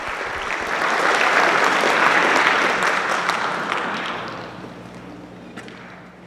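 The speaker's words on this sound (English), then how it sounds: "Can you give them a round of applause and welcome them to the stage?" A high school concert audience applauds to welcome a woodwind choir to the stage, the clapping swelling to a full, dense peak and then tapering off, with a couple of sharper claps near the close.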